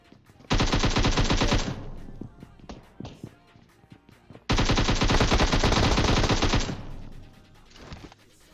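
Long, loud bursts of automatic gunfire in PUBG Mobile, two sustained volleys several seconds apart with scattered single shots between them; a voice is faintly present.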